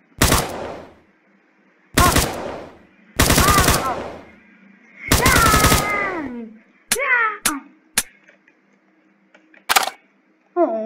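Gunfire from a gun mod in Minecraft version 1.10.2: several loud, rapid bursts of automatic fire in clusters, separated by short pauses, followed by a few sharp single shots and brief synthetic game sounds.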